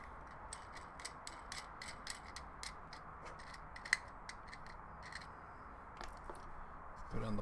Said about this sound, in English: take out the screws.